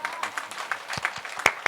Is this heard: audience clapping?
yes